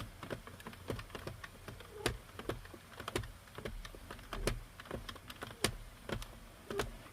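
A cheap knitting machine making quiet, irregular clicking and ticking that runs steadily throughout, close by, with no voices.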